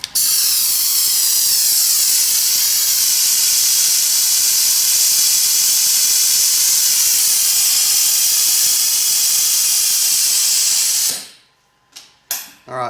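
Compressed air roars through a homemade cast sandblast gun (MKII) as a loud, steady, close hiss for about eleven seconds, then cuts off abruptly, leaving a few short, fading puffs.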